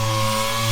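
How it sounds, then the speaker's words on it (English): A dual-action sander working over a boat hull coated in 30 years of lake grime, a loud, steady droning whir with a constant pitch and no pauses, close to the microphone. "sanding with the DA"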